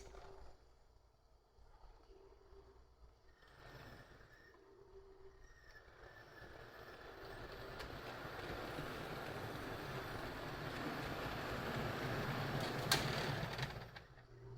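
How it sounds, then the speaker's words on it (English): An HO scale Acela Express model train runs in reverse, pushed by its locomotive, with a steady rolling rumble that grows louder over the run and peaks near the end. "now let's reverse the Acela Express"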